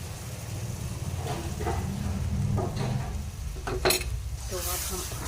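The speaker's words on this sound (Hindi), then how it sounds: "चम्मच आपने हिलाते जाना है।" A spoon stirs a besan and egg-milk halwa mixture in a hot pan, giving a continuous sizzle with scraping strokes and a sharp clink partway through.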